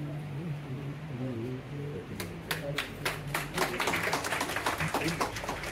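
Scattered hand clapping from an audience welcoming the vice-chancellor at a university fine arts exhibition, picking up after a voice speaks and continuing as irregular, moderately close claps.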